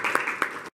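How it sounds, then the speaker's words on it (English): An audience at a quantum engineering talk gives a very short, soft burst of applause with a couple of sharper claps, which cuts off abruptly. "give them all a welcome applause"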